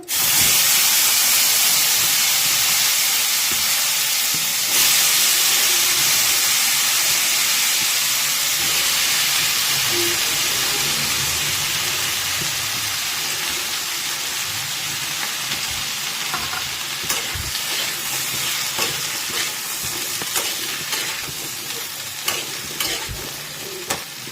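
Vegetables sizzle and fry in hot oil in a pan after fish has been fried, with a steady loud hiss and occasional stirring scrapes and spatters throughout, no voices.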